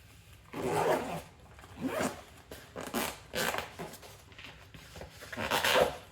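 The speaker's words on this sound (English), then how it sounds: "Let's make sure we can zip everything up and see how it looks." A zipper pulled around an adult cooler lunch bag: a series of five or six raspy zipping strokes in uneven bursts, close and moderately loud, with no talking.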